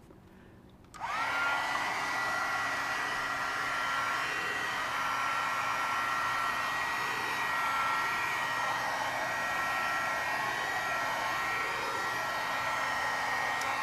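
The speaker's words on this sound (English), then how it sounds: "I'm going to hit that with the dryer for just a second with the heat gun." A heat gun blows hot air over a mixed media collage for artist trading cards, switching on abruptly after a second of quiet and then roaring steadily and loudly without pause.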